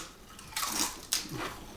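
Teeth bite into a thick, crunchy wavy salt and vinegar potato chip, giving two sharp, close crunches a split second apart against quiet.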